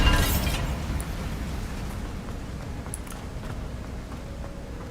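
A Bombarda blast spell in Hogwarts Legacy erupts as a loud burst at the start, then fades into a long crackling, rumbling debris tail that stays steady and fairly loud.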